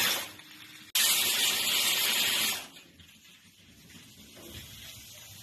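A pressure cooker cooking urad dal releases a loud, steady rush of steam for about two seconds, then drops to a faint background hiss.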